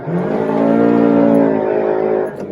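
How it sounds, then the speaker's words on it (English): A Honda City, fourth-generation facelift, revs its engine hard on an empty road, a loud, steady, rising drone heard close from inside the car, holding strong before easing off at the end. "empty road, revving the motor"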